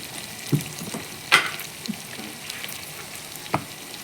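Prawns and onions fry lightly in a pan for prawn biryani, giving a soft background sizzle with a few stirring clicks and scrapes, fairly quiet and with no talking.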